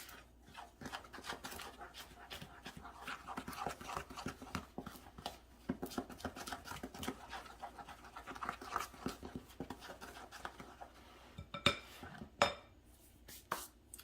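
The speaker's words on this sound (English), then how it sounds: "And then we are going to mix this dry ingredients all together here." Dry ingredients, salt among them, mixed together in a bowl for muffin batter, heard as a busy run of soft scraping and light clinking taps of a utensil against the bowl, with a couple of sharper knocks near the end.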